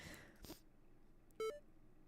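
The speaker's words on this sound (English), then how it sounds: "A sound reminiscent of a very primitive computer rings out" A primitive computer beep in the game Ghostpia: a single short, quiet electronic tone that sounds once and stops, after a few soft rustling sounds.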